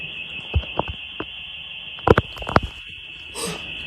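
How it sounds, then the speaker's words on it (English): A house alarm sounds as a steady, piercing high tone that runs unbroken throughout, with loud thumps and bumps close by and a short burst of noise near the end. "their house alarm suddenly goes off"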